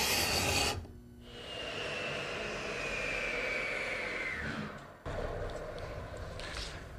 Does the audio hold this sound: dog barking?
no